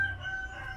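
A rooster crows close by, one short strained harmonic call held through under a second, loud and alone.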